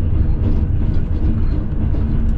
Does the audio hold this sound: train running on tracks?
yes